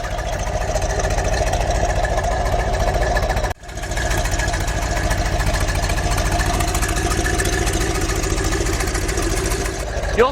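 A 1972 Chevrolet Corvette C3 with a 350 V8 and dual chrome exhaust rumbles deeply at idle throughout, with a brief dip partway through, close and fairly loud.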